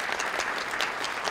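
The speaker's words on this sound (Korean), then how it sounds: "하나님께 영광의 박수 한번 칩시다" Audience in a church applauding at a New Year greeting event, a steady burst of clapping with no talk over it.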